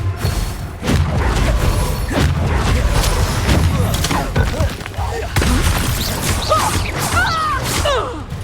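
Bombarda and Confringo explosive spells in the Hogwarts Legacy video game: repeated loud booming blasts and crashes with whooshing bursts, dense and continuous, with voice callouts mixed in.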